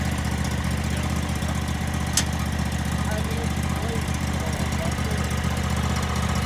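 A church's riding lawn mower engine runs at a steady idle, a continuous low mechanical drone that stays even throughout with no change in pace.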